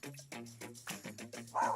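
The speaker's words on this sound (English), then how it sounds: "Dogs." Dogs at a house bark at a cougar that has entered the yard, sharp high yips and barks firing in a rapid, agitated series, fairly close and loud, with no voices.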